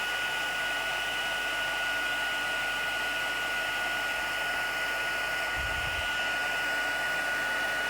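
A heat embossing tool blows hot air onto stamped cardstock for a wedding card, a loud constant hiss and whine like a hair dryer running without a break from start to finish.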